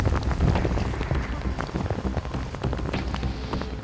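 Heavy rain pours down on a mountainside in the Himalayas, a dense close patter of drops striking surfaces that keeps on throughout.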